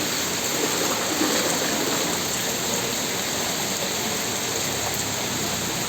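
Constant rushing floodwater pouring through Mabini Street, a dense steady flow with rain-like hiss and no voices.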